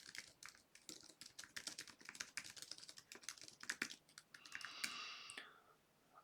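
Rapid clicking keystrokes on a computer keyboard as code is typed, quiet and close, in uneven bursts with a short pause near the end.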